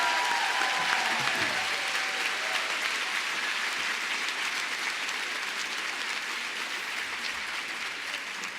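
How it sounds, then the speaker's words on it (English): An audience at a school back-to-school event applauds a band's performance, a sustained, dense clapping that holds steady and slowly tapers, with a faint sustained tone fading early on. "could you join me in a round of applause for that wonderful performance?"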